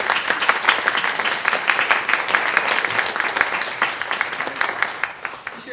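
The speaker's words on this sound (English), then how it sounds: "Let's give them a round of applause." Round of applause from an audience at a tribute show, lively close clapping with individual claps standing out, steady throughout with a slight easing toward the end.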